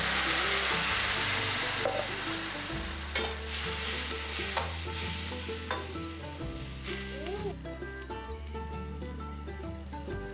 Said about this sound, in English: Add the chickpeas followed by some coconut milk with some water.